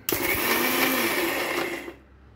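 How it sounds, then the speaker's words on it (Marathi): A mixer grinder blending creamy coffee runs in one loud, steady burst for about two seconds, then cuts off abruptly, leaving near silence. "डायरेक्ट मिक्सर फिरवत बसायचं नाही, बंद चालू करून करायचं"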